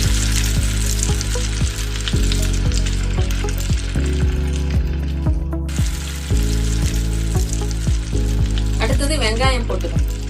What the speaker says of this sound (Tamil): பச்சை மிளகாய் வதங்கினதும் இஞ்சி பூண்டு பேஸ்ட் போட்டு பச்சை வாசனை போகிற வரைக்கும் இஞ்சி பூண்டு பேஸ்ட்டை நல்லா வதக்கிக்கணும்.